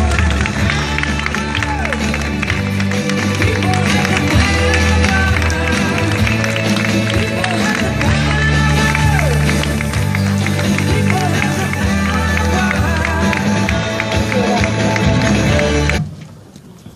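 Audience applause in a studio welcoming Italian minister Maria Elena Boschi: dense, sustained clapping from a large crowd with some cheering, loud and continuous before cutting off abruptly.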